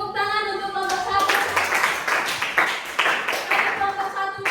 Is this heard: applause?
yes